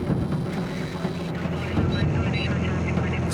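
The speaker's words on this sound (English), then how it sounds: "And since we were loaded with fuel for the long journey, our takeoff roll took forever." A Piper Malibu, heavily loaded with fuel on a hot day, makes its takeoff roll. A steady propeller engine drone continues throughout, and a voice may be faintly present beneath it.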